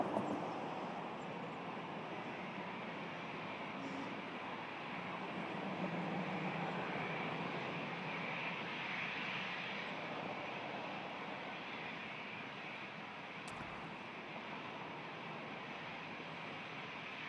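Aircraft engines roaring steadily at Toronto Pearson airport during a departure, a broad continuous rumble that swells slightly midway and holds at a distance.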